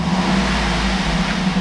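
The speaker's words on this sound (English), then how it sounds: "I'm going to rev the engine." Engine of a 2010 GMC Yukon XL SLT 4WD SUV revving up steadily, a loud continuous low drone held close by with no talk.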